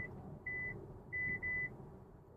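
An MG4 X Power's lane assist warning sounds a high electronic beep three times in short bursts, the last two close together, over a low steady road rumble inside the car.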